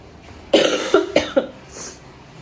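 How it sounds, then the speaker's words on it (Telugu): A person with a lingering cough gives a quick run of four harsh coughs, close and loud, followed by a softer breathy exhale, with no talking. "కాఫ్ అలాగే ఉంది"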